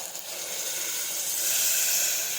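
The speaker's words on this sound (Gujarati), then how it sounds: "હવે આપણે પાણી ઉમેરી દઈશું." Water poured into a hot pan while cooking a brinjal curry lets out a steady steam hiss, growing a little louder midway, close and alone with no voices.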